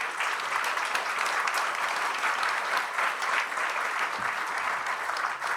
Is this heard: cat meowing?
no